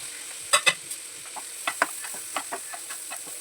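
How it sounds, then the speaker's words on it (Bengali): Chopped garlic and onion fry in butter in a pan, a steady hiss broken by a few quick clinks and scrapes of a utensil, close up, with no one talking. "প্যানের মধ্যে বাটার দিয়ে ওর মধ্যে দিয়ে দিলাম ওই কুচনো রসুনটা, আর দিয়ে দিলাম কুচনো পেঁয়াজ।"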